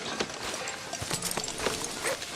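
Horse hooves clip-clopping on the way into Valentine in Red Dead, a light, uneven patter of hoofbeats at moderate distance under soft background ambience.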